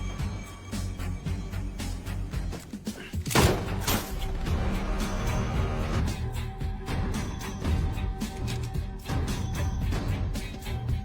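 Movie gunfire rings out amid a busy, loud action soundtrack with music and thuds, including one sharp, prominent shot burst near the middle and scattered cracks throughout.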